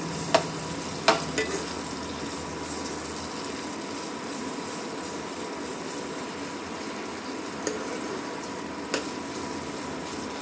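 Ginger garlic paste frying in a pan for chicken curry, a steady soft sizzle with a few clunks of a spoon stirring early on and later, no voices.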